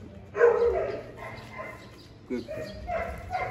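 A fox terrier gives a few sharp, close barks with brief pauses in between, while people talk over and around them indoors.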